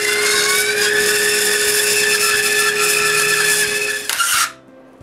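Thin-bladed saw cutting through a wood block for a carved Santa figure, a steady, loud, continuous buzzing drone with no talk, stopping abruptly near the end.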